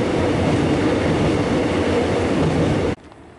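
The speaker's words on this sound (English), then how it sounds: "There is also another train passing to my right." A train rumbles past close by at Melbourne's Union Station, a loud steady roar of wheels on rails that cuts off abruptly near the end, leaving quiet.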